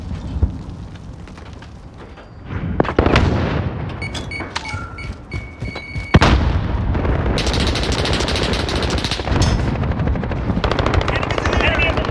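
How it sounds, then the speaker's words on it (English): Automated sentry gun firing in Call of Duty: Modern Warfare during a Kill Confirmed match on the NorthStation map, sustained rapid bursts of gunfire layered with other battle noise and a brief spoken announcement. "Friendly sentry gun online!"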